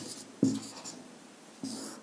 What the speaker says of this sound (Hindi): तो अगला पॉइंट हम यही लिखते हैं